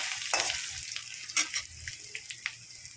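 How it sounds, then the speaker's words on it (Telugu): Coriander seeds, urad dal and dried red chillies frying in oil for a bitter gourd dish, a hissing sizzle with scattered crisp taps of a spoon against the pan, near and moderate, no voices. "ఇప్పుడు మిరపకాయలు వేసుకోవాలి"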